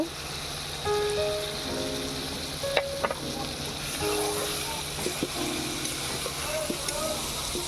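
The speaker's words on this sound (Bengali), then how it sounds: "এবারে দিয়ে দিচ্ছি পোস্ত।" Poppy seed paste drops into a hot pan of ridge gourd, a steady close sizzle with stirring scrapes and a few sharp clicks, running under faint background voices.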